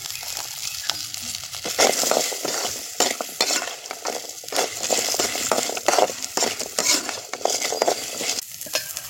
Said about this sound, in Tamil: வெங்காயம் பூண்டு எல்லாம் நல்லா வதங்கிருச்சு.